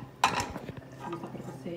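An iron pot clanks sharply once on a stovetop, followed by softer scraping and knocking of cookware in a quiet kitchen.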